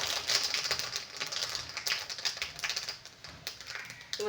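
Mustard seeds and urad dal crackle and pop in hot oil in a home kitchen, a quick irregular patter of sharp little spits that rises and thins out.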